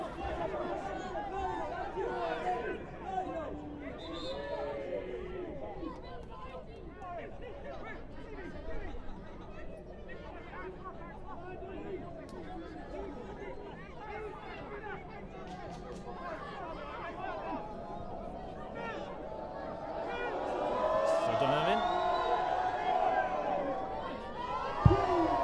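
Spectators at the FAI Centenary Junior Cup Final between Villa FC and Pike Rovers, a crowd babble of chatter and scattered shouts that rises toward the end, beneath continuous commentary.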